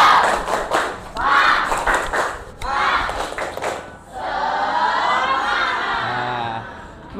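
A group claps out a rhythmic cheer in bursts, loud and close, with some voices mixed in, then a steadier burst of clapping and chatter follows.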